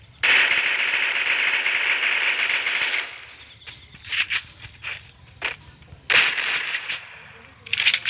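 Gunfire in a video game shotgun match: a sustained burst of rapid loud shots for three seconds, then scattered sharp single reports and short bursts, close and punchy.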